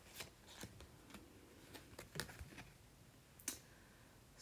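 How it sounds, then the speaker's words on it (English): Playing cards being shuffled and moved around by hand, a quiet series of soft riffling flicks and taps in an irregular rhythm, close and faint with no talk. "You shuffling the cards a little bit."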